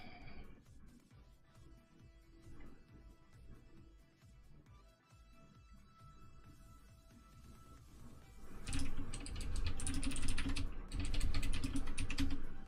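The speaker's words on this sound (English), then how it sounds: "it's really weird getting used to typing while standing again" Keys clatter on a computer keyboard as someone types while standing, with irregular bursts of clicks, quieter at first and then growing louder and denser toward the end.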